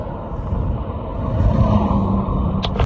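Audi R8 and Porsche sports cars roll past on an Alpine road, a steady engine rumble swelling slightly as they approach, with brief faint higher noises near the end.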